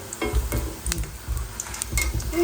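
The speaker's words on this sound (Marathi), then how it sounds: "तर आता ही लसूण शेव छान मी फ्राय करते" Garlic sev fries in hot oil in a home kitchen, with a soft sizzle under intermittent scraping and clinking as the pieces are stirred and turned in the pan.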